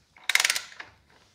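A hand ratchet loosens a cylinder head bolt on a BMW R 1150 GS motorcycle engine, giving a quick run of about six crisp, close clicks and then one lone click.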